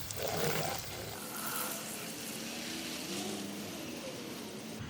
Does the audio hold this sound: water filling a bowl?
yes